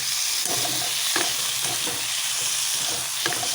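Home-grown tomatoes sizzle in hot oil with ginger and garlic as a spatula stirs and scrapes the pan in several distinct strokes, close and steady, for an Assamese taro-leaf curry with potatoes; no voices.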